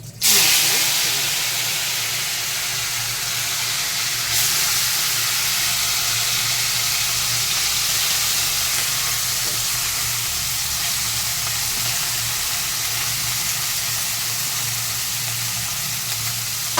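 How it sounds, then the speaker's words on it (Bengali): Small kachki fish fry in hot oil in a wok with a loud, continuous crackling sizzle, starting with a sharp burst as they hit the oil and then a dense, even hiss that persists without a break. "এবার আমি এই মাছগুলো ভেজে নিচ্ছি।"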